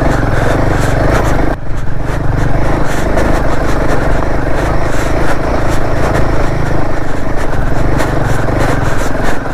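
A Royal Enfield Himalayan 411 motorcycle roars loud and close at full throttle on a tough climb to Sandakphu, its engine note sustained and strained throughout with one brief dip.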